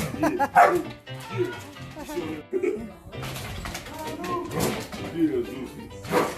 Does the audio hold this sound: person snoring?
no